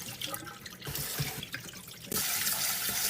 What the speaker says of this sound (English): Then rinse with cold water.